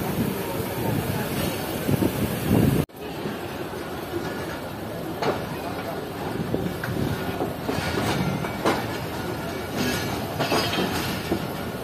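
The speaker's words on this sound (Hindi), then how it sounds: "ट्रेन चलना शुरू हो चुकी है।" The Pak Business Express pulls out of Karachi, wheels clattering steadily over rail joints with a brief squeal, a rumbling near pass that goes on throughout, and voices faintly beneath.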